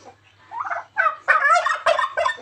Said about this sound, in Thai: อันนี้ไก่งวงไก่แอนนะครับผมตัวนี้จะตัวใหญ่กว่าไก่งวงธรรมดามาก